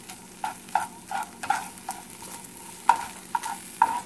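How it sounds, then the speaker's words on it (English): Crab meat sautéing in a pan, a soft steady sizzle broken by a series of sharp scraping stir strokes at irregular intervals, close and moderately quiet with no talking. "So you are simply just sauteing it to your liking."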